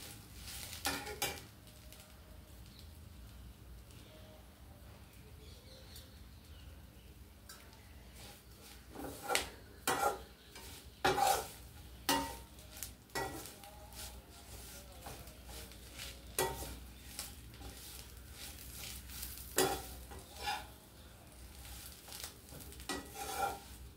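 Curry leaves fry in a hot pan while a spoon stirs them, giving a soft steady sizzle broken by scattered scrapes and clinks of metal against the pan, close and alone.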